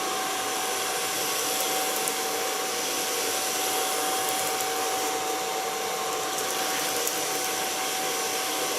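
A handheld hair dryer blows steadily and close up while a woman's hair is styled, a continuous even whoosh with a constant high whine and no pauses.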